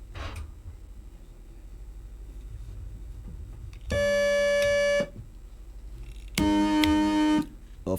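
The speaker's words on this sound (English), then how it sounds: "that is the sound of their various buzzers" Two quiz show contestant buzzers are tested one after the other, each a loud electronic tone held for about a second over a low room hum, the second pitched lower than the first.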